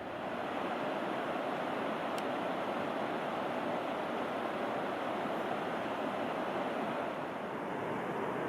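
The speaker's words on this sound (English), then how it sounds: "we're watching some amazing waterfalls." A waterfall on a hike in Mount Rainier National Park gives a steady, dense rushing roar that holds an even level throughout, with no voices present.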